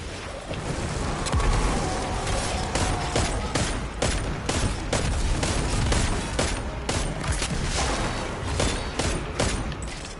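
Shots from a scout rifle in Destiny 2 crack out at a steady, repeated pace, each report sharp and fairly loud, with a constant background of game ambience and no speech.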